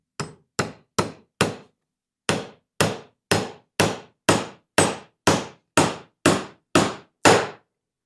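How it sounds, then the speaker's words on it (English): Sharp hammer blows strike a nail, four quick hits, a short pause, then a steady run of about eleven more evenly spaced, loud and close. "Will it sink a nail?"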